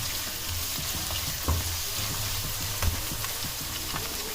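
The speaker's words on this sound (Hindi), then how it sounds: "अब मैं इस प्याज के अंदर ये सूखा धनिया, साबुत और हरी मिर्चें, अदरक लहसुन मैं इसके अंदर डाल रहा हूँ।" Chopped onion frying in hot oil with dried coriander, green chillies, ginger and garlic for a vegetable pulao, giving a steady close sizzle with a few soft stirring knocks, no voices.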